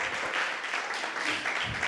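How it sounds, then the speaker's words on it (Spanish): A church congregation claps together in a steady, dense wash of applause that fills the whole stretch without any clear talk over it. "Merece un aplauso y un gloria a Dios."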